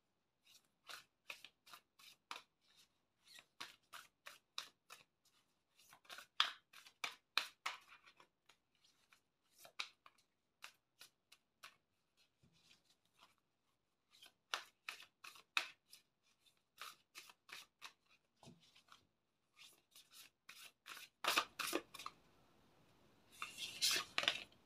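Tarot cards handled and drawn in steady runs of soft, crisp flicks and rustles, close and quiet, ending in a louder burst of shuffling and handling noise without talking.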